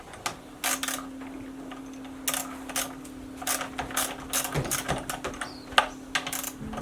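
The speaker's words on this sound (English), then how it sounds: "First you open these both screws." Cover screws on a Husqvarna 120 Mark II chainsaw loosened with a wrench, a series of close, sharp metallic ratchet clicks in irregular bursts, with a faint steady hum underneath.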